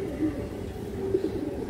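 Pigeons coo softly in a low, steady murmur that runs through the short stretch, with a slightly louder swell near the middle; the birds include a lively, restless hen pigeon.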